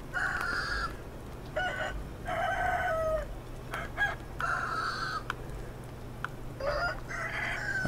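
Several roosters crow and cluck in bursts in the video game Sekiro, with overlapping calls repeating every second or so over a low steady background hum.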